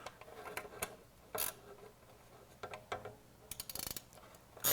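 A socket ratchet wrench turns a bolt on a 2026 VRS 06 intake base, giving faint, irregular bursts of ratcheting clicks with short pauses between strokes and a brief louder rattle near the end.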